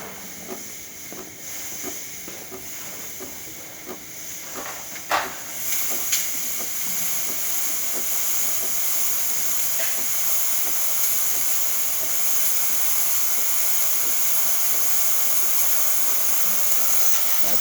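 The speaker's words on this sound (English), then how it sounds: "then steam will start pumping out." A few clicks and bumps give way to a steady, loud hiss of steam from a DeLonghi Magnifica espresso machine's steam wand after a full tune-up, continuing without letup.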